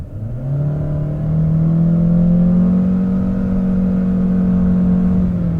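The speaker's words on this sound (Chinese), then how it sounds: "你重踩油门" A 2023 Chery Omoda 5 SUV with a turbocharged engine and CVT gearbox, driven hard in Sport mode, gives a loud, steady droning whine that swells and holds as it accelerates, with no talk.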